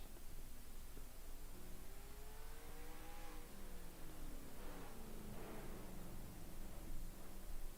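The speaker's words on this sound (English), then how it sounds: "Nice, loud V8 from Honda, just going for broke." A Honda V8 race car engine revs and whines past at a distance, pitch climbing and falling through gear changes over a broad rushing roar.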